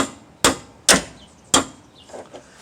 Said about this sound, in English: And I'll try to hit it with the hammer